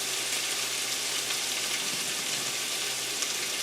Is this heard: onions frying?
yes